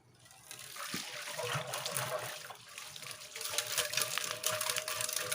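Stones and liquid being shaken inside a rusty motorcycle fuel tank to clean it, a continuous sloshing, rattling wash that swells and fades, moderately close with no talk.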